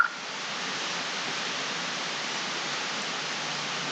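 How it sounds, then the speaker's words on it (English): Heavy rain falls as a steady, even hiss of dense noise that stays constant throughout, moderately quiet, with no talking. "It is really raining now."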